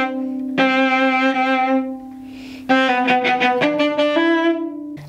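A cello plays a chorus phrase, a few sustained bowed notes with rich harmonics, then a quicker run of repeated notes including a slur, ending on a held pitch, close and alone.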